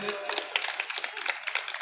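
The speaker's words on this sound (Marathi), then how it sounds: "जरा टाळ्या होऊन जाऊ देत." Brief burst of audience clapping at a lecture series event, fairly dense and steady patter of hands through the short span, moderately loud with no speech.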